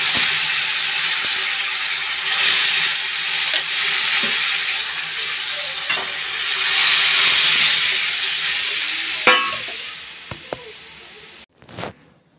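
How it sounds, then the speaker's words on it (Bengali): Boiled lentils hit hot oil with fried bay leaf, dried chili and onion, a loud steady sizzle and hiss with occasional stirring knocks, then a sharp clatter before it cuts off. "ডালটা এখন তেলে দেবো"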